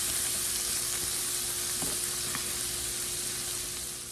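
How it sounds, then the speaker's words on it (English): Bacon frying in a pan gives a steady, dense hiss of sizzling with a faint hum underneath and a couple of brief clicks, close and continuous for about four seconds with no talking. "So I'm gonna go ahead and get the bacon going."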